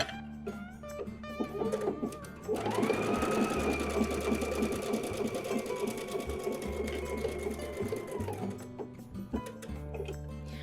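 A sewing machine stitches a flower appliqué onto a pillow in one steady, loud run of rapid rhythmic needle strokes lasting about six seconds, framed by quieter handling before and after.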